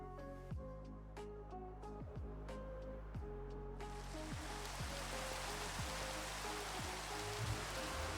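Steady rain hiss in a video game with a recurring low thumping pattern beneath, the downpour thickening and growing louder partway through, no talk.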